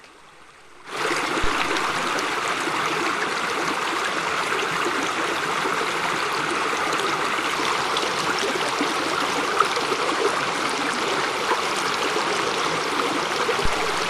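Steady water of McGraw Creek in Hells Canyon flowing and babbling over stones, a continuous close rushing sound that starts after a brief quiet moment and holds evenly throughout.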